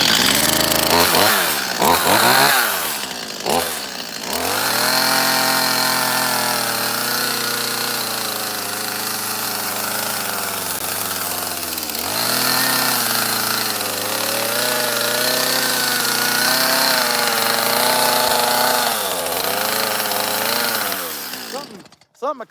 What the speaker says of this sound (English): There's a little bit of smoothing I can do here with that other saw.